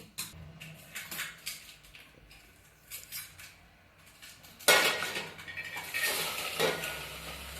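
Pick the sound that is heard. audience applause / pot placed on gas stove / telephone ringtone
pot placed on gas stove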